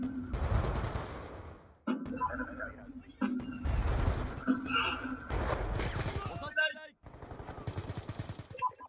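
Bursts of rapid gunfire from a first-person shooter game crackle in short volleys separated by brief gaps, with someone talking over much of it.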